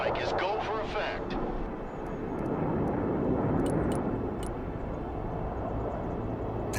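Aircraft engines roar overhead in the modern military strategy game Broken Arrow, a steady loud jet rush swelling and fading under radio-style voices and a few sharp ticks.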